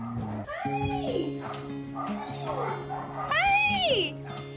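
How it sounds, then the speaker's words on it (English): A border collie gives high, arching yips and whines, two bursts close by, over a steady background hum while people talk nearby. "This is my daughter's border collie."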